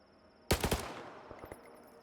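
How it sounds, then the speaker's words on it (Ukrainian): GP37 rifle in the S.T.A.L.K.E.R. video game firing a short three-round burst, a loud, close, sharp triple crack followed by a fading echo and faint trailing clicks. "То саме тройними стріляє."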